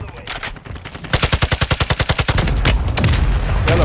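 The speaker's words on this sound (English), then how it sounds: "I'm over here firing at them." Gunfire in Call of Duty: Modern Warfare II: loud, close bursts including a rapid, evenly spaced machine-gun volley of about a dozen shots, with scattered booms and battle noise around it.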